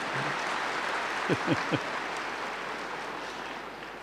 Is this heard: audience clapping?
yes